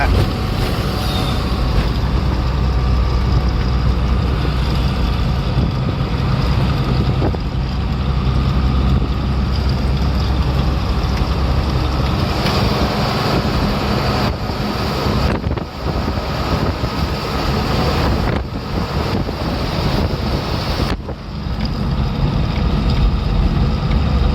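Strong, constant wind buffeting the microphone while riding a vehicle on an outdoor road, a loud roaring rush that fills the whole clip with low rumble and brief dips.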